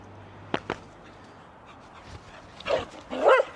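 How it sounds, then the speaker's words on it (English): A dog barks twice in quick succession, then after a lull gives a few louder, rougher barks up close. "Stop barking."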